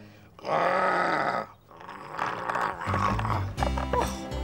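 A voice imitates a toy monster's growl, with rough, throaty growling bursts separated by short pauses, close and fairly loud.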